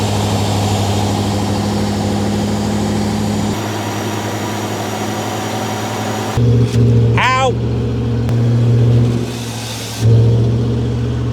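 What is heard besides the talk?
Rover P6 V8 engine running and revving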